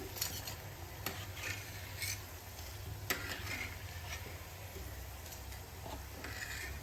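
Poha and potato cutlets being lifted from hot oil in a kadhai give off a steady, close frying sizzle with faint scraping and stirring noises throughout, with no voices.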